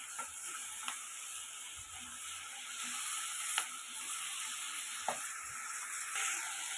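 Mixed vegetables with turmeric and salt frying in oil in a pan, a soft steady sizzle under occasional light scrapes and clicks of a spoon stirring.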